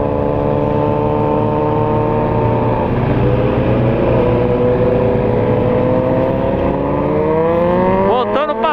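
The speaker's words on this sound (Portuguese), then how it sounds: "32 motos no rolê." Over 30 motorcycles ride together in a group, making a continuous close engine drone that holds steady and then climbs in pitch near the end, while someone talks over the roar.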